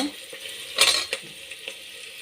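Vegetables for sagu, a poori curry, frying in a pan with a soft sizzle, a sharp burst of stirring and a few utensil scrapes against the pan, close up and with no talking.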